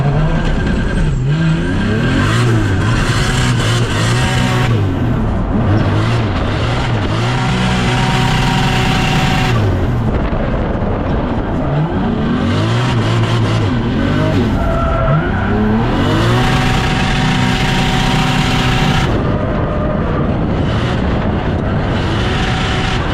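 2JZ-engined drift car on track, engine revving hard in repeated rising and falling bursts with tires squealing and skidding, loud and close.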